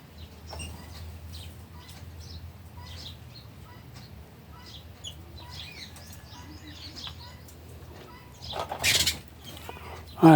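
House sparrows chirp while feeding around midday, scattered short tweets at moderate distance over a low steady hum, ending with a sudden louder flutter and clatter.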